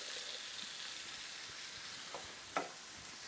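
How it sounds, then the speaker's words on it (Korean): Meat, carrots and potatoes fry in an oiled pan for curry with a steady, soft sizzle, punctuated by a few light utensil taps and one sharper clink. "고기 먼저 다 넣어주시고요. 그리고 당근하고 감자도 다 넣어주세요."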